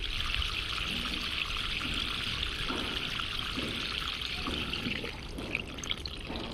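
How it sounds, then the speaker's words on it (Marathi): Water streaming into a grow bag of planted garlic until the soil is soaked, an even close trickling pour that carries on steadily without talk. "पाणी पार बुडाला जाईपर्यंत टाकायचं।"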